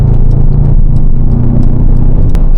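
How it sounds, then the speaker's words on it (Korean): A loud, deep V8 engine roar from a Mercedes-AMG GT 63 S 4MATIC+ rumbles continuously up close, heavy low-end growl with steady intensity throughout. "이 63 V8 엔진의 이 호랑이 같은 포효 소리가 정말 좋습니다"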